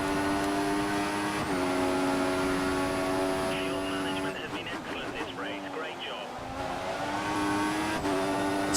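A Formula 1 car races in the F1 2014 video game at the Austrian circuit, giving a loud, continuous high-pitched engine whine with gear-shift drops in pitch and a brief quieter, rougher passage in the middle.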